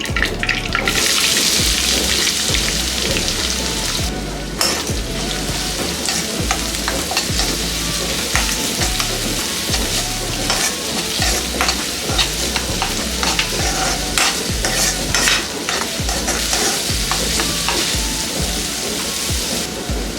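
Curry leaves and finely chopped onion fry in hot oil for huli chitranna, a loud, dense crackling sizzle close by with repeated stirring knocks and scrapes throughout, alone without speech.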